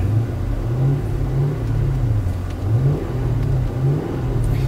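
A car engine idles with a steady low rumble, broken by light revs roughly every second as the pitch rises and falls back, close and loud, after a costly aftermarket part was fitted.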